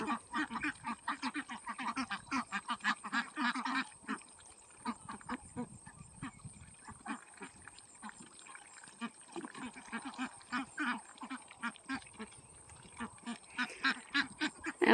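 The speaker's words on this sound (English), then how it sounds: "It is a lot of fun to watch the ducks playing in fresh water." Ducks splash and play in fresh water, with rapid bursts of quacking and chatter rising and falling across the clip and occasional pauses, fairly close and loud with no talking.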